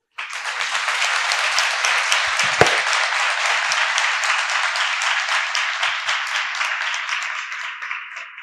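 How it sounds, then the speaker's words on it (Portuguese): Audience applause fills a symposium hall after a presentation at an Institut Pasteur anniversary event, a dense, steady clapping that holds at an even level for several seconds before tapering slightly at the end. "Uma salva de palmas, por gentileza, novamente."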